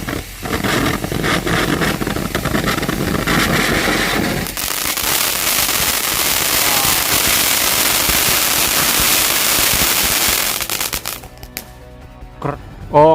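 Firecrackers and fireworks set off ahead of Ramadan: loud continuous crackling bursts that fill the whole stretch, shifting from dense popping to a sparkling hiss before ending in a few scattered pops.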